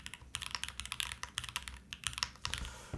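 Steady, fast typing on a Bear65 V2 mechanical keyboard built without foam, a close stream of sharp, clacky keystrokes with brief pauses and no speech.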